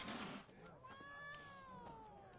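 A cat in The Witcher 3 lets out a drawn, wavering yowl that rises and falls, fairly quiet and following a brief burst of noise at the start.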